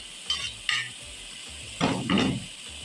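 Okra and onion land in a hot pan for bhindi keema. Two quick light clinks come first, then a loud surge of sizzling frying, heard close with no talking.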